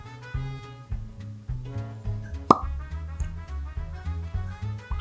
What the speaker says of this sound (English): That's an impressive cork pop.